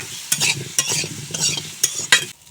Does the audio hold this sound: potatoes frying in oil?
yes